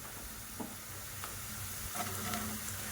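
Chopped beans hit frying onions in a pan, raising a quiet, steady sizzle with a few light stirring scrapes, close by and without speech.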